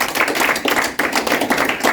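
A church congregation clapping together in praise of the Lord, loud, close, rhythmic hand claps in a quick steady beat with no voices over them.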